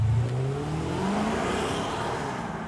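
High-performance car accelerating hard on a race circuit, engine note climbing quickly in pitch through the gear, loud and continuous from inside the cabin.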